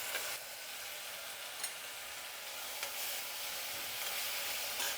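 Onions fry in a pan for a quick home curry, giving a steady close hiss and sizzle with faint stirring scrapes, no one speaking.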